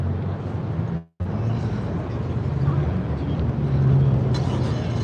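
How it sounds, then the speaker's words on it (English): An old Nissan Micra set up as a rally-style car at the Daikoku parking area, its engine a steady close drone with a brief cut near the start, under background voices. "Old Nissan Micra or something,"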